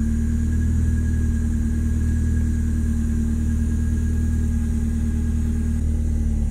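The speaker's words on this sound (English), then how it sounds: "Cold start isn't too crazy in the Miata." A Mazda Miata engine running just after a cold start, a steady low rumble with a faint high whine, loud and close throughout without talk.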